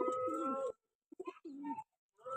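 Pigeons coo in a loft, giving soft throaty, rolling calls close by in two or three short bouts separated by brief silences.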